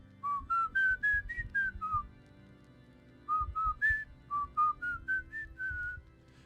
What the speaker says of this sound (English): Who can whistle?